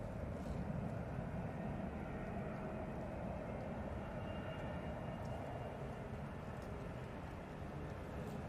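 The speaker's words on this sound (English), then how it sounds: "this EasyJet's coming in from Faro" An EasyJet Airbus A320neo coming in from Faro gives a continuous, even jet roar, fairly near and steady from start to finish, with no one speaking.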